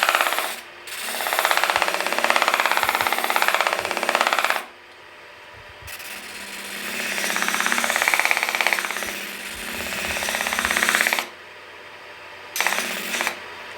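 A power sander works a small handmade coffee spoon with 320 grit paper, a loud, steady rasping whir close by that runs in long bursts, drops away briefly, then resumes, with no speech.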